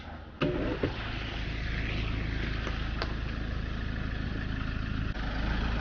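Steady low engine rumble of a tow truck arriving at the scene of a parked car that was hit, idling continuously and fairly close, with a couple of brief clunks and no talk.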